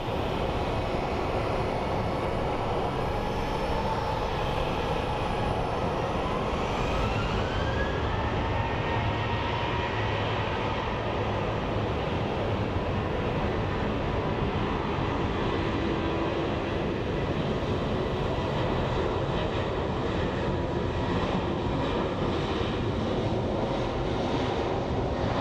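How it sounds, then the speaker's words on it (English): An Alaska Airlines Boeing 737-800 departs Phoenix Sky Harbor for Seattle, its jet engines a loud broadband roar with a rising whine that holds steady throughout. "We have an Alaskan Airlines Boeing 737-800 that's going to be departing for Seattle."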